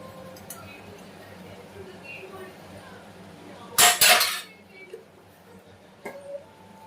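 A spoon stirs ginger garlic paste into jackfruit seed pulav in a pot, giving one loud burst of metallic scraping and clinking midway and a brief clink near the end, over a faint background hum.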